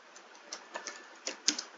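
Code being typed on a computer keyboard, a quiet, close run of irregular key clicks with a few sharper taps, no talk.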